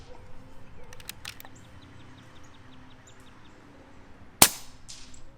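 Single sharp crack of a regulated Air Arms S510 XS TDR air rifle firing at a 75-yard target, a brief loud impulse against quiet outdoor ambience with faint birdsong.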